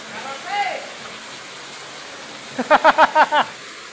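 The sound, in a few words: rain falling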